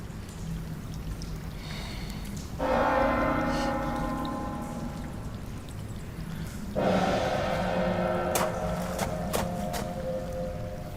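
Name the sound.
gong struck in the night, echoing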